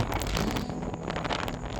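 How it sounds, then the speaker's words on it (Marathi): Strong wind buffets the microphone in loud, uneven gusts, a constant roaring rush with no talking, near the summit of Kalsubai peak. "किती जोरदार वारा आहे"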